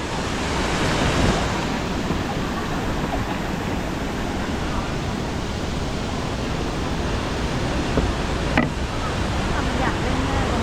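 Kok Kradan waterfall pours in a dense, constant roar of rushing water, loud and close, with a faint voice barely surfacing for a moment.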